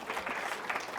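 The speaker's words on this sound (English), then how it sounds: "give her a little bit of a clap" A seminar audience at a nutrition academy talk gives a brief round of applause, a soft, fairly distant patter of clapping that lasts only about a second.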